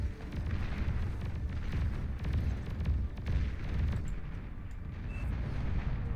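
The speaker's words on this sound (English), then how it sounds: "Bombers firing away here as well" Bombers dropping bombs in the real-time strategy game Beyond All Reason during an 8v8 deathmatch, a dense, continuous rumble of overlapping explosions and muffled booms, loud and unbroken throughout.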